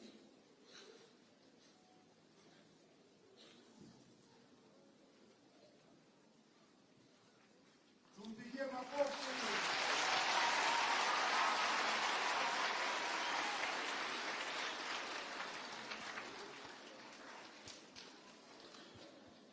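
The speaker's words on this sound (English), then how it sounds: "Another hand clap." Audience applause at the ceremony installing Kenya's First Lady as patron of the Kenya Girl Guides: a quiet, murmuring stretch first, then loud hand clapping breaks out and holds steady before slowly easing off.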